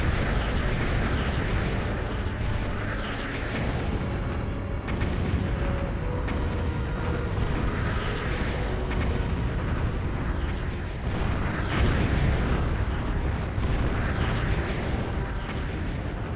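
Relentless gunfire and explosions from a Total Annihilation battle, a dense, loud wall of blasts, shots and rumbling that never lets up for over fifteen seconds, with no voices over it.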